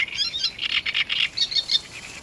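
Small birds sing outdoors in short, rapid chirping bursts, bright and fairly close, repeating over a couple of seconds against a quiet background.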